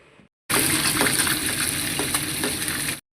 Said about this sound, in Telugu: అలా ఉంచేసి తర్వాత బాగా కాల్చేయాలి